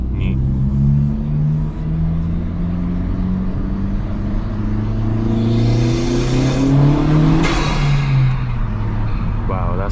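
A 2023 Honda Civic Si engine revs and accelerates hard, its loud rising drone climbing through the gears and peaking before easing off near the end, heard close.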